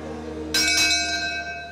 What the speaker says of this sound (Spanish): Campana y arranca el segundo.